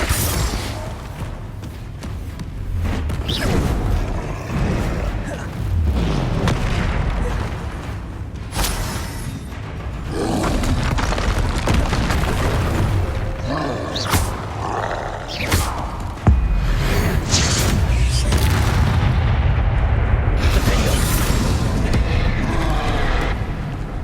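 Repeated booming blasts from the Confringo fire spell in the video game Hogwarts Legacy, mixed into dense combat noise with thuds, pops and rumbling that continue without a break through a long battle.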